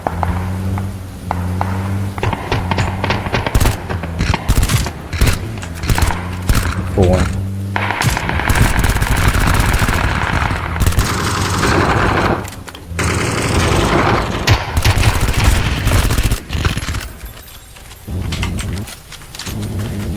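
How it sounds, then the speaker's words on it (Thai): Gunfire in a shooting video game, rapid close bursts of automatic fire broken by short pauses, loud and repeated across the whole stretch, with voices talking over it. "ยิงกันนอกวงอีก"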